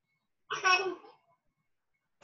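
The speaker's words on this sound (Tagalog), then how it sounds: "May naririnig ba kayong baby?" A baby babbles in the background during an online statistics class, a single short burst of babble with a brief faint sound after it, alone and without talk.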